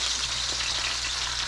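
Pork steaks fry in grease in a skillet, a loud, dense, steady sizzle heard up close without any talk.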